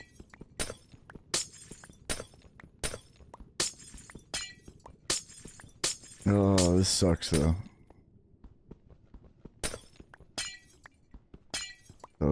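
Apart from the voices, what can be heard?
breaking glass panes in a video game (Minecraft)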